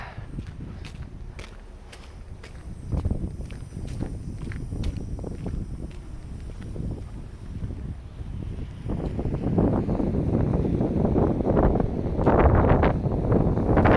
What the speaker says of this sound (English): Bit of wind right here. There, calm again. Seems to come and go.